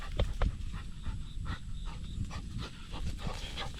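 A dog pants rapidly and excitedly in quick rhythmic breaths, close by and fairly loud, with no talking over it.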